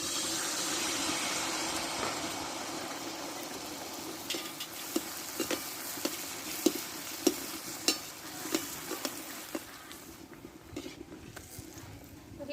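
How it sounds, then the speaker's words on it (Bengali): Palm-fruit malpua frying in oil gives a continuous soft sizzle, joined midway by a run of sharp clinks and taps from a utensil against the pan, then fading quieter near the end. "আবারও আমি একটা ভেজে নিচ্ছি"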